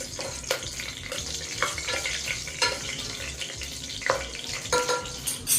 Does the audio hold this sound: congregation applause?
no